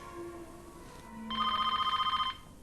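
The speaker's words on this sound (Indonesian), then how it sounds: "Ponsel Maya berdering" A mobile phone rings for about a second in a rapid, warbling electronic trill, fairly close, after a quiet stretch of room tone.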